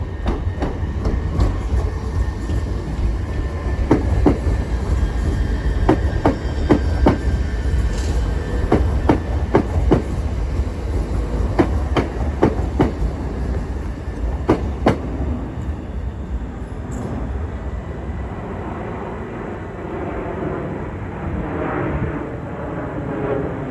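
A C2C Class 357 electric train pulls into a London terminus, rumbling steadily with repeated clickety-clack of wheels over rail joints, easing and quieting toward the end.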